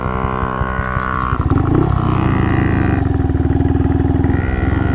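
A Honda Monkey motorcycle's small engine runs steadily up close, with a harmonic drone that shifts pitch as the rider changes speed, no voices over it.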